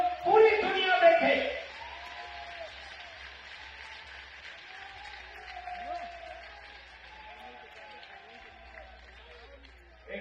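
An audience at a Hindu religious gathering bursts into loud applause that fades within about two seconds, followed by someone speaking over quiet background noise.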